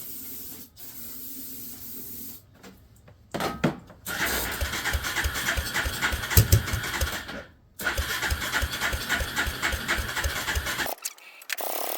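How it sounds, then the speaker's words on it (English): A Suzuki LT300E ATV engine cranks and sputters without catching, in two long bursts of rapid chugging with a hissing edge, close and loud, separated by brief pauses. "It tried to sputter over, but something's not enjoying life is what it is."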